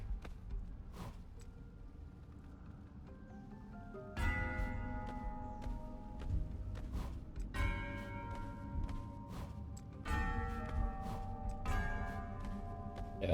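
Bells ring in a puzzle in the video game Ruined King, with overlapping chimes and resonant tones. Fresh strikes land every few seconds and the ringing sustains clearly between them, with no talk.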